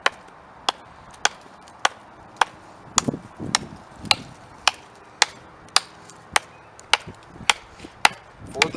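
A custom knife chops into a very dry piece of elm hardwood, giving a steady series of about fourteen sharp, evenly spaced close-up strikes, with faint handling rustle in the middle.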